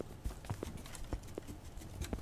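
A goat creature in the puzzle game Creaks clops its hooves, irregular hollow knocks at close range over a quiet background.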